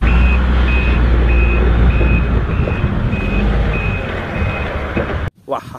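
A toy airport truck sounds its reversing alarm, a steady series of about nine evenly spaced high beeps over a loud, rumbling background that cuts off abruptly near the end.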